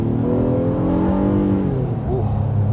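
Engine of a 2024 Honda Passport Black Edition with a 3.5-liter V6 accelerating onto a highway, a steady low rising drone heard from inside the cabin with a brief voice in the background.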